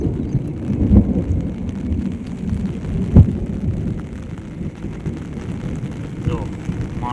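Heavy first rain of the monsoon season pours steadily over open farm fields with grazing buffaloes, a continuous dense rumble with a sharper thunder-like crack near the middle, close and loud throughout.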